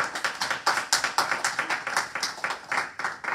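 A church congregation claps along in a steady rhythm, many hands striking close and fairly loud with brief gaps between the beats.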